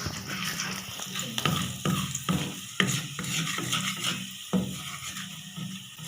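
Sago khichdi with turmeric is stirred in a pan: repeated rhythmic scrapes and knocks of a spoon against the metal over a low sizzle, close and steady with no voices.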